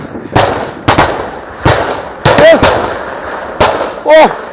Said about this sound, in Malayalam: ഇപ്പോഴും സ്ഫോടന ശബ്ദം അവിടെ നിന്ന് കേൾക്കുകയാണ്